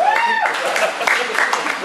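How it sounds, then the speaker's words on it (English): A small audience at a live magic show claps for a rubber chicken prop, a brief scattered patter of applause that follows a short spoken phrase and stays fairly close and light. "Little applause for the rubber chicken."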